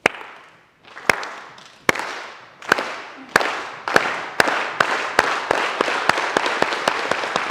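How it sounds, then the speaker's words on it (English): A school assembly audience joins in a slow clap that builds steadily, starting with a few sharp, widely spaced claps and speeding into dense, rhythmic, louder group clapping. "it's with a slow, gradually building clap"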